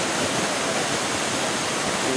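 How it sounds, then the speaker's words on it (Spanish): Water rushing at the intake of an irrigation channel in the Andes during ditch cleaning, a loud steady broadband roar of flow without pause and no voices. "ya en la toma de agua, prácticamente está conduciendo en regular cantidad"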